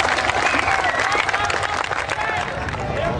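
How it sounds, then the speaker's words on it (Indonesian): A crowd applauds loudly and steadily at a speech or rally, a dense continuous wash of clapping with murmuring voices mixed in. "Tepuk tangan."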